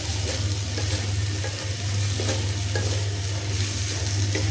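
Chicken roll filling fries and is stirred in a pan, a steady close sizzle with faint scraping and a low hum underneath, no voices.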